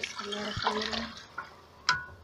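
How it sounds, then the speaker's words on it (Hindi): Water poured from a bowl into daliya porridge roasting in a pan, giving a faint sizzle and splash, followed by a couple of soft clinks, quiet and close. "ये हमने पानी ऐड कर दिया है"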